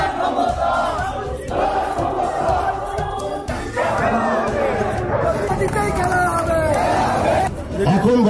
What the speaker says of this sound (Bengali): খেলা হবে মঞ্চ থেকে উঠেছিল স্লোগান।